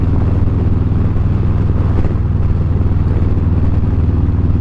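A motorcycle cruising along FM 677, a country highway near Forestburg, its engine holding a steady, loud drone with continuous rumble and wind noise throughout, no voices.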